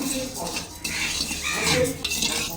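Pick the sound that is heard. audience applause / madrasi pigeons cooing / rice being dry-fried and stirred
rice being dry-fried and stirred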